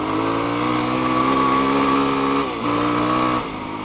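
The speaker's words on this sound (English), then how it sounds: "you just crack the throttle and it's gone" A Yamaha WR450 dirt bike engine with a GYTR tuned ECU holds close, loud, high revs with a buzzy tone, dipping briefly twice as the throttle eases before climbing back.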